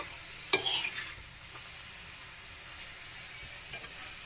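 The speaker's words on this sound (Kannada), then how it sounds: "ಇವಾಗ ನಾನು ಕೊತ್ತಂಬರಿ ಸೊಪ್ಪನ್ನ ಹಾಕ್ತಾ ಇದ್ದೀನಿ. ಒಂದ್ಸಲ ತಿರುಗಿಸ್ಕೊಳ್ಳಿ" Fresh coriander leaves stirred into a hot frying pan for a greens palya: one clattering scrape of the spoon, then a low, steady sizzle, close and quiet.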